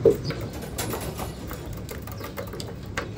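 Racing pigeons arriving home together from a 116 km training toss from Unisan, Quezon, make a steady bed of soft cooing and fluttering, with faint clicks and shuffles throughout.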